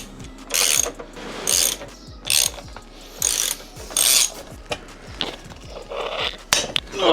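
A hand ratchet clicks in quick repeated bursts while undoing bolts on the rear plastic section of a BMW GSA motorcycle, close and loud, with short pauses between strokes.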